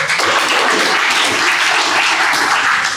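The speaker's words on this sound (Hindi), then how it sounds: "तुम लोग उसी के लिए ताली बजाओ" An audience breaks into applause at a talk by an IPS officer about preparing for the UPSC civil services exam: dense, steady clapping from many hands that stays loud and even throughout, with no voices over it.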